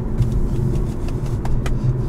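A 2020 Infiniti Q60S Red Sport on the move, its engine a steady deep rumble heard from inside the car with road noise, loud and even for about two seconds with no one talking.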